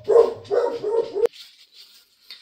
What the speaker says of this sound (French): Mes chiens risquent d'aboyer parce qu'il y a mon fils qui arrive.